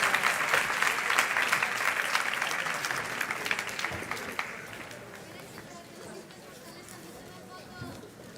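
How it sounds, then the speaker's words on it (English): Delegates at the UNESCO Global Forum Against Racism and Discrimination give a round of applause as panelists gather for a group photo, a thick burst of clapping that thins out into room murmur after a few seconds. "one more round of applause as they group together for a group picture"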